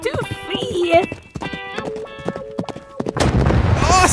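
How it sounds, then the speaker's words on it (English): Horses gallop in the animated JoJo series Steel Ball Run, with clip-clopping hooves and a whinny heard between loud excited voices, followed by a rushing burst of noise. "Due to everyone's horses galloping all over the place."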